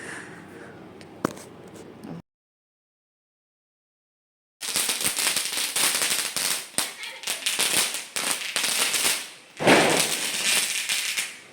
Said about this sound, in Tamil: பட்டாசு வந்து வெடிக்க ஆரம்பிச்சிட்டாங்க